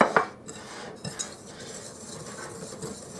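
A utensil scrapes and clinks against a bowl while stirring German chocolate cake batter, with a few sharper knocks early on, close up and steady.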